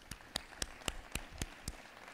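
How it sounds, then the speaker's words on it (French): Faint, scattered claps from a conference audience applauding the interpreters, about seven distinct claps at a steady, unhurried pace with quiet room noise between them. "je vous demande, mesdames et messieurs, qu'on les applaudisse ce soir, les interprètes de cette conférence"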